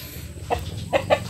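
A cobra chicken, a breed with a featherless head, kept on a small farm, gives three short, close clucks in quick succession over low background noise.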